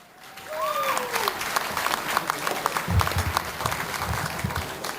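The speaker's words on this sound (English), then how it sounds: "We need to give him a big round of applause." An audience applauds a drummer in a live drum lesson setting, steady clapping that swells quickly and holds at a dense, even level for several seconds.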